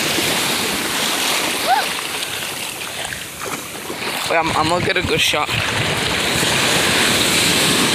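Ocean surf rolling and crashing on a beach, a continuous loud wash of breaking waves with heavy wind buffeting the microphone while people talk over it.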